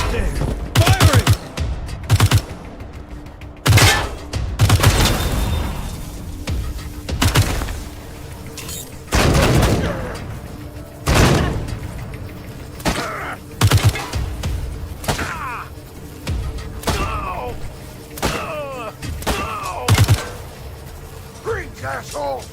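Rapid bursts of gunfire in the video game Wasteland 3, with clustered sharp shots and mechanical clacks repeating through a tense battle, loud and close, with occasional voices over the firing.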